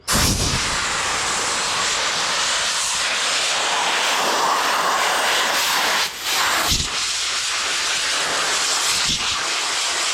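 A loud, continuous hiss of compressed air blowing out a filter blasts without pause, briefly dipping once before surging on.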